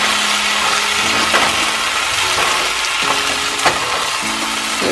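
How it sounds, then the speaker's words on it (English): Butter sizzles softly in a soup pot for potato leek soup while a spoon stirs it around. The steady hiss runs throughout, broken by a few light scrapes and taps of the spoon against the pot. "So just move that butter all around, covering everything"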